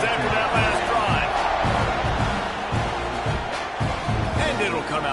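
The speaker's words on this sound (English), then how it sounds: "this crowd is feeling themselves after that last drive" A stadium crowd in College Football 26 cheers in a steady loud roar with rhythmic thumps, under a game commentator's talk.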